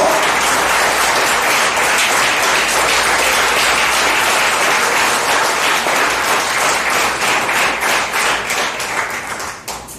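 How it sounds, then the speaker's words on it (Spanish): A church congregation applauds together during a worship service, a dense, loud wash of clapping that holds steady for the full stretch and thins slightly at the very end. "aplauda la gloria de Jehová en esta mañana"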